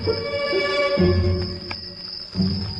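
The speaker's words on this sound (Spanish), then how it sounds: "los grillos encuentran refugio en el suelo" High, steady chirping of crickets in a German meadow runs throughout, with low rustling and faint scattered sounds beneath it.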